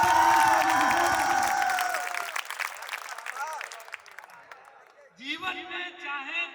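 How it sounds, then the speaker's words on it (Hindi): A crowd applauds at a Hindi kavi sammelan to welcome the poet Dr. Anil Choubey. The clapping is dense at first, then thins and fades out as a voice takes over. "जोरदार तालियों से स्वागत डॉक्टर अनिल चौबे जी"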